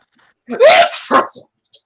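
A voice imitates a sneeze: a sharp rising vocal burst followed by a breathy release, close and loud, then a faint short sound.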